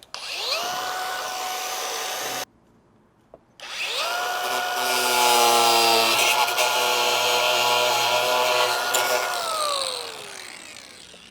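A power saw cuts into a fourth-generation rear strike bumper, its high motor whine rising as it spins up, stopping briefly, then returning for a longer steady cut that winds down at the end.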